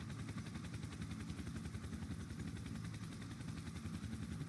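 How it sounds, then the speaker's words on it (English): A police patrol helicopter in a video game set in the City of Winnipeg, its rotor beating in a fast, steady chop with engine whine above, continuous and moderately close for several seconds, with no talk. "Why is my helicopter going down so quickly?"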